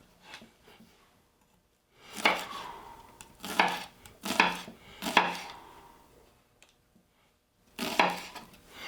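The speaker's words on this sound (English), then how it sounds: "I'm cutting up a shallot." A knife chops a shallot on a board in several close bursts of quick, crisp cuts separated by short pauses, distinct against a quiet kitchen.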